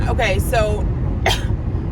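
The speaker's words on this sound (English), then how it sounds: "I just even coughed in it, but something was in my throat" A person coughs a few times up close, with short rough bursts followed by one more cough about a second later, over a low background rumble.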